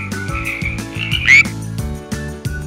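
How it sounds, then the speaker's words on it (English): Frog croaking ribbit calls repeat over a bouncy children's music backing, fairly loud and close, with a rhythmic pattern of croaks through the short stretch. "a ribbit like a frog?"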